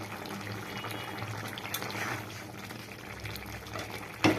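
Cauliflower curry simmers in a pot, a soft low bubbling under quiet kitchen noise, ending with a brief louder clatter.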